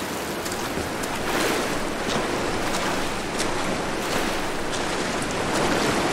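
Waterfall in the Tomb Raider video game: a steady, dense rush of falling water with a broad hiss and low rumble, continuous and fairly loud throughout with no breaks.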